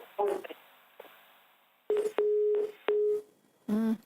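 A telephone busy tone sounds after a dropped call, with separate steady beeps repeating at intervals, loud and close, broken by short bits of line noise.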